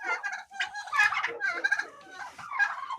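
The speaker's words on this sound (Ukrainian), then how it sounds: "починають індики битися між собою." Turkeys at a household poultry yard gobble in repeated, overlapping bursts as they start to fight, a loud, busy cackle lasting the whole stretch with no voices.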